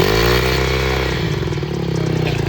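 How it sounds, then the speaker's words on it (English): A 2012 Honda CRF150 dirt bike engine, just kick-started, idling loud and close with a harsh, buzzing single-cylinder drone that holds steady throughout. "You started your first bike"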